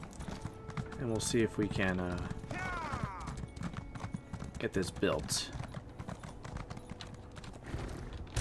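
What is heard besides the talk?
horse hooves clip-clopping in the video game Elder Scrolls Online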